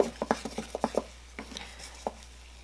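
Aztec healing clay mixed with essential oil is stirred in a small container, giving a quick run of soft, wet clicking taps followed by a couple of sparse scrapes, close and quiet.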